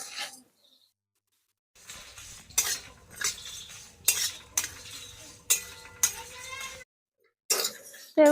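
Whole spices fry in a wok while a utensil stirs and scrapes them in sharp, repeated clinks and rasps over a faint sizzle, broken by short silent gaps.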